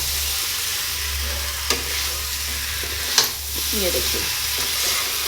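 Fried potato and eggplant sizzle steadily in a pan, with a loud, continuous hiss, a couple of scraping stirs and a brief spoken remark.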